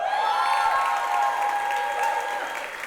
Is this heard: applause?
yes